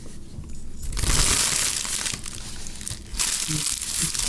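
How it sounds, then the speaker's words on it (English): Close crinkling and rustling of plastic cookie packaging in irregular bursts, loud and crackly, with no voices. "Everybody heard you rustling the cookies."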